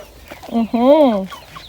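A rooster in a farmyard flock gives one short, close call that rises and falls smoothly, clear and alone against a quiet background.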